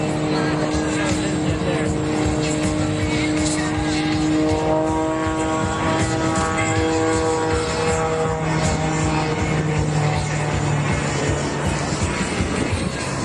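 An MX2 aerobatic propeller plane's engine drones loud and close at the Reno Air Races, pitch holding then shifting as it hangs nose-up in a hover, with an announcer speaking over it.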